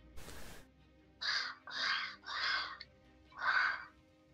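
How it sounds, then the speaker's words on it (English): Raven caws used as a sound effect in a tabletop role-playing game: four loud, harsh calls in an uneven rhythm, close and clear, following a brief burst of noise at the start. "look at the rafter and you hear like the caw of a raven"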